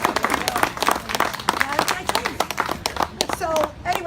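Outdoor crowd clapping at a park dedication, uneven and fairly sparse with individual claps standing out, mixed with chatter and voices talking over it.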